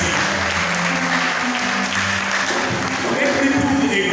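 Church congregation applauding during a Sunday worship service, steady clapping across the whole stretch with voices singing and calling out beneath it.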